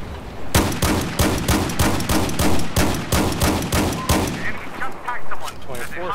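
Frag rounds fire in Battlefield 4 as a rapid, evenly spaced string of about a dozen loud, booming shots, followed by a short stretch of rumbling echoes and scattered fainter shots.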